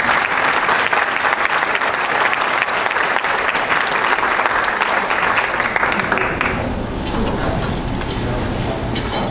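Audience applause at a Rotary club meeting welcoming a speaker, dense sustained clapping from a room full of people that fades and thins out near the end.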